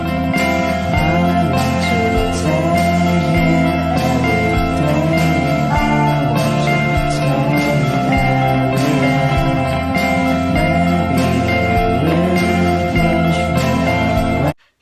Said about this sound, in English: listening to some shoegaze dream pop music